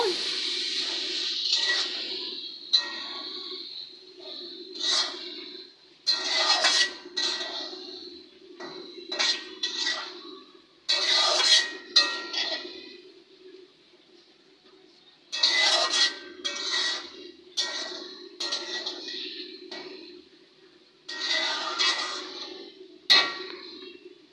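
A spatula stirs a green tomato stir-fry in a pan, making repeated metallic scraping and clanking strokes in bursts separated by short pauses, close and clear, with a steady faint hum underneath.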